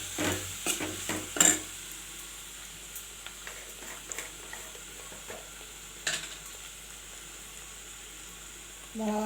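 Mutton kulambu being stirred in a pan with spices and onions, giving a soft steady sizzle with a few scraping stir strokes near the start and occasional clinks, mostly quiet and without talk.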